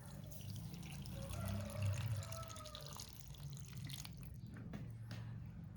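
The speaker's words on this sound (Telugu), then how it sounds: "ఇంకా దానికి సరిపడా వాటర్ పోసుకుందాం." Water poured into coconut chutney with peanuts, fried green chilies, garlic and salt: a soft, faint trickle and splash in a quiet kitchen, with no talking.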